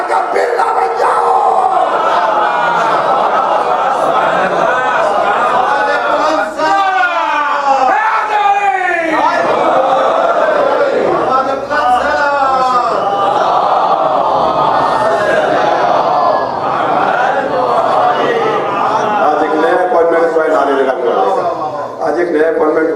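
A crowd at a Muharram majlis chants religious slogans in loud unison, the voices rising and falling in long, sustained waves that fill the room for the whole stretch.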